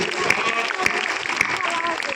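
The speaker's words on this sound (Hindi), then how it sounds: "एक बार कायदे से जोरदार तालियां आदरणीय के लिए बजाइए।" Applause from an audience at a Hindi poetry gathering (kavi sammelan) held at an intercollegiate venue, a short burst of clapping with a few sharp louder claps, mixed with crowd murmur.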